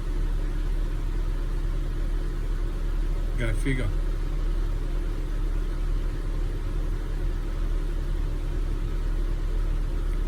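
A Holden Commodore VZ idles with its cooling fan running, giving a steady, unbroken mechanical hum and whir close by for the whole stretch, while someone speaks briefly partway through.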